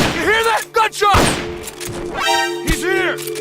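Gunfire in the video game Metal Gear Solid Peace Walker: a couple of sharp, separate shots ring out amid other game effects and tonal sounds.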